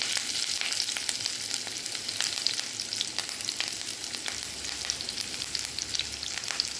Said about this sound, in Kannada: ಸ್ವಲ್ಪ ಫ್ರೈ ಆಗಲಿದೆ.